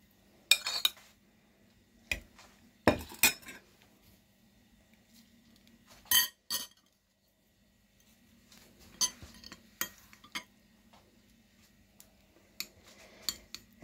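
A metal spoon clinks against a jar, with brief scraping as hot oil is spooned over dried tomatoes, in scattered close taps and clatters at an irregular rhythm across a quiet background.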